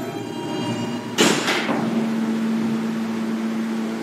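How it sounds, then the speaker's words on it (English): An NYC subway F Express train at 21st Street-Queensbridge station, a sharp burst of hiss or door noise followed by a steady tonal motor hum inside the car, with no talk. "This is a Jamaica 179th Street bound F Express train."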